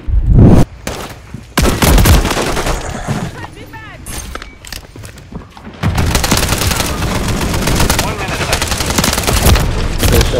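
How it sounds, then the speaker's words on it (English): Rapid bursts of automatic gunfire and loud booms in a Call of Duty Modern Warfare 3 multiplayer War match, with a heavy sustained barrage building in the second half while a player talks over the shooting. "Bastards, they're shooting at me."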